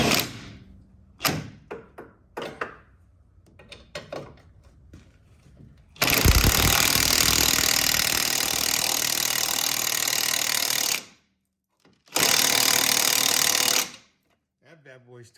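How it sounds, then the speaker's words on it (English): Wrench tightening a nut on the front coilovers of a Pro Street Pinto: a few sharp clicks and knocks, then a long loud continuous mechanical burst and a second shorter burst, close by. "Now the wrench fits on there."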